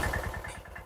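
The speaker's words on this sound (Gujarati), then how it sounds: "અને રામભાઈ ને ભાવેશભાઈ ને બે ટ્રેક્ટર હાકે" A tractor engine runs at a farm field where two tractors are being driven, giving a steady, close, low throbbing chug with a regular pulse and no talk.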